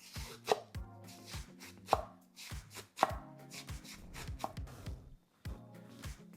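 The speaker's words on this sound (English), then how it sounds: "And for the cabbage, you just want to slice it really, really thin, as thin as you can." A knife slicing cabbage thinly on a cutting board, quick regular thuds in a steady rhythm, close and crisp, alone without speech.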